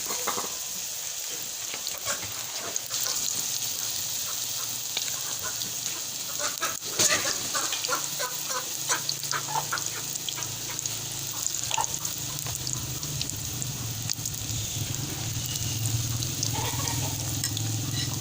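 Cabbage pakoras fry in hot oil with a steady, loud, close sizzle, broken by occasional stirring scrapes and light clicks as the fritters are moved in the pan. Nobody speaks.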